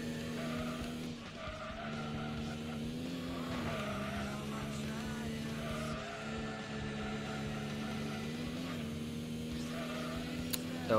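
Race car engine drones steadily under continuous tire squeal and skidding through fast corners in a racing video game, the French Nationals event, with the pitch rising and falling as the car is pushed along, loud and sustained.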